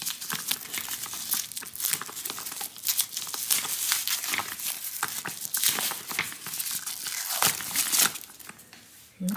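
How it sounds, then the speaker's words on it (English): Plastic wrapping is torn and peeled off newly bought concert outfit pieces, a long stretch of loud crinkling and ripping with short bursts and pauses, close by and alone. "Okay, so take off the plastic. Wow, this looks very authentic. I'm gonna rip these off."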